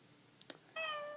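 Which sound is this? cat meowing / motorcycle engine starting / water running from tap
cat meowing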